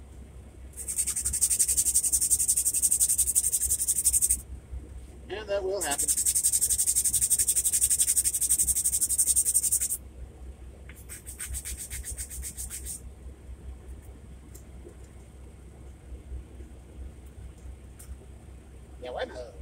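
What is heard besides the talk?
sanding an O scale model train kitbash part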